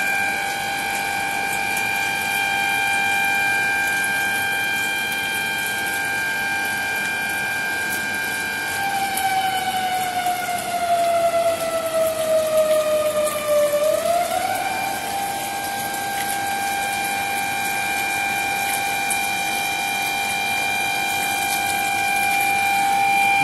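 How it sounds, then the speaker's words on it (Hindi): A flood warning siren wails steadily beside the Ganga at Gangori in Uttarkashi, Uttarakhand, its loud held tone dipping in pitch and rising again over the constant rush of the river, with no voices. "सायरन बज रहा है"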